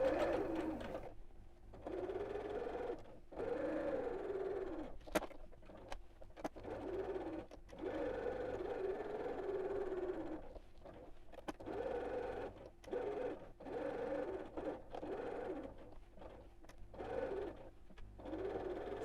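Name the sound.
sewing machine stitching fabric for a scallop gift bag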